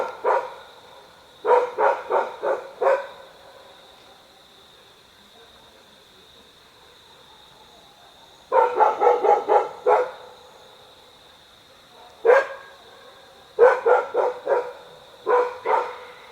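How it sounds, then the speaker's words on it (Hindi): Sambar deer calling at dawn in the jungle: loud, sharp barking calls in quick bursts of several, repeated in groups with quiet gaps between, against a faint steady background. "ये सुनिए, ये अभी आवाज़ आई सांबर की।"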